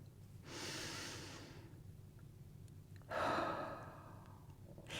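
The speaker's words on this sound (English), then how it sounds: "I want to invite you to take a breath with me." A person takes two slow, deep breaths, a long inhale followed by a stronger, breathy exhale, close and alone in a quiet room.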